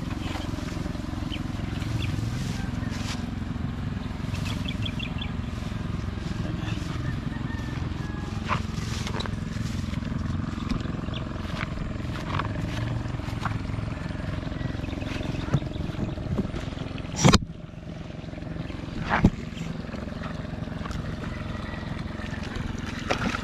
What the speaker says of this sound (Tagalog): napaandar ko na yung electric motor dito